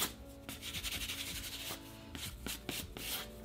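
A fine sanding pad rubs gently back and forth over a chalk-painted urn in short, soft scratchy strokes, close and quiet.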